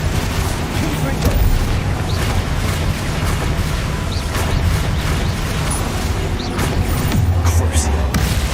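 Confringo spell explosions in a Harry Potter video game rumble with deep, continuous booming blasts layered under dense, crackling game noise throughout.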